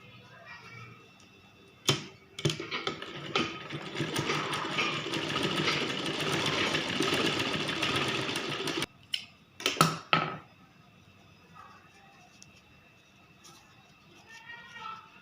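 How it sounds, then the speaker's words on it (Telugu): A sewing machine stitches a small fabric flower for a baby skirt, its fast, buzzing whir running steadily for several seconds after a few sharp clicks, then stopping, followed by a couple of brief clacks and quiet handling. "తర్వాత చిన్న ఫ్లవర్ లాగా దీన్ని మనం కుట్టుకోవాలి."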